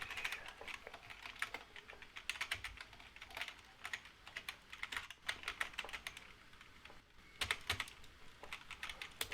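Keys clatter on a computer keyboard in quick irregular runs with brief pauses, close and fairly quiet, with no talking.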